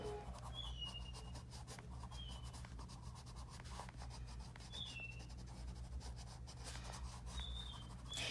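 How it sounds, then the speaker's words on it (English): A colored pencil is sharpened close up, a faint steady scraping rub repeating in short strokes, with quiet chirping in the background and no talk. "I'm going to give it a quick sharpen."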